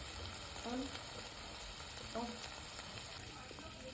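Chopped onions with ginger-garlic paste sizzle in a pan, a steady, fairly quiet frying hiss with occasional soft scrapes of stirring.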